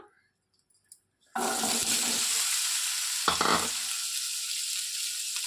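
Cucumber pieces dropped into a hot pan, a brief quiet moment then a sudden loud burst of frying sizzle that stays strong and steady, with a short stirring clatter partway through.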